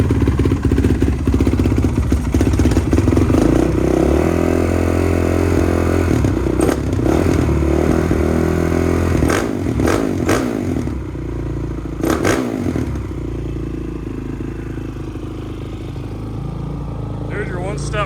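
A Honda CRF450R engine from 2006, fitted to a modern three-wheeler trike, runs loud and close at a steady idle with mechanical clatter and brief scraping noises.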